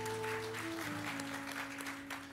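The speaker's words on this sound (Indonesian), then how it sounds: "Beri tepuk tangan buat Tuhan Yesus" Church congregation applauding in a dense, steady patter, with sustained musical tones ringing underneath that fade partway through.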